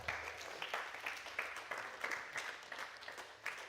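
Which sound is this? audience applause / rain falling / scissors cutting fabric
audience applause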